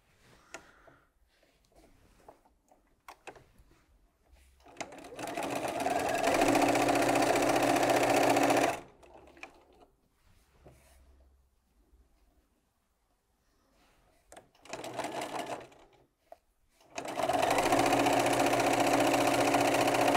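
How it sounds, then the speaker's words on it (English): Sewing machine stitching down pinned quilt patches in two long runs of steady rapid whirring, separated by quiet pauses with faint handling noises, close and loud. "And then I'm going to sew this down."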